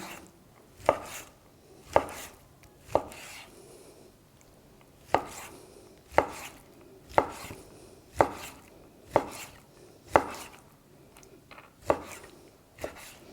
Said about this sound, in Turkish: Ciğerlerimizi kestik ve hazırladık